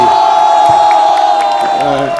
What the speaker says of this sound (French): Applaudissements pour lui, applaudissements pour lui.